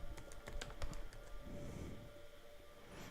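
Username being typed on a computer keyboard, a quick run of sharp key clicks in the first second, then a quieter stretch with a faint hum and a few soft taps.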